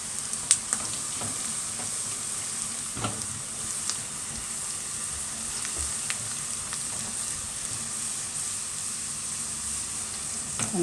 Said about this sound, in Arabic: نعمل الطشه بقى للملوخيه